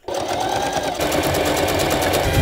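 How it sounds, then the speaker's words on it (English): A sewing machine runs steadily and loudly, its rapid stitching rhythm continuous from start to finish with no voices. "Our first time using a sewing machine"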